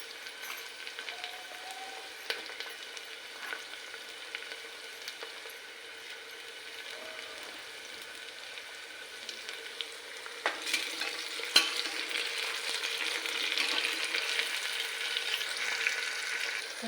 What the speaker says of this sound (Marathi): कांदा चांगला लाल होऊन घेऊ।